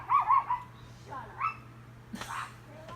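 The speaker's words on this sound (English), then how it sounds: "There's a little dog yapping." A small dog yaps in short bursts at moderate distance, with a steady low hum beneath and people talking over it.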